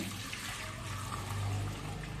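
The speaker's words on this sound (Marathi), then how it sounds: "एका भांड्यामध्ये पाणी अगदी हळूहळू ओतून काढायचं" Water trickles and splashes steadily as it is slowly poured off settled wheat starch from one vessel into another, a continuous close gurgle.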